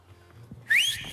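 A man's wolf whistle aimed at a passing woman: one sharp, loud rising whistle after a near-silent moment of faint room noise.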